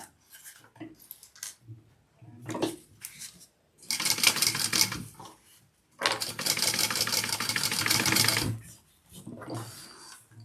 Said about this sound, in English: And then I need to sew this side.